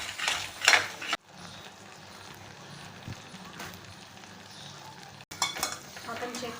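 Metal spoon scraping and stirring masala as it sautés in a pan for Malvani misal, with clinks and soft sizzling under a quiet background. Clearer clatter comes at the start and end.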